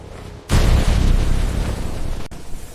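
A torpedo explodes in a LEGO James Bond video game, a sudden loud boom with a rumbling burst that sustains for nearly two seconds before cutting off abruptly.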